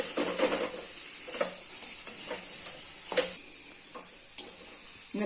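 Cluster beans are sautéed in a pan for usili, a soft continuous sizzle overlaid with a handful of spatula scrapes and taps, fairly quiet and close.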